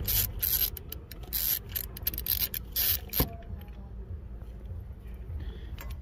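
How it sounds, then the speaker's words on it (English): A 16 mm spark plug key works loose a spark plug on a 2006–2011 Fiat Grande Punto, giving a few seconds of close, gritty ratcheting and scraping bursts that stop, then a single sharp metallic tick over quiet background. "you have to unscrew each spark plug"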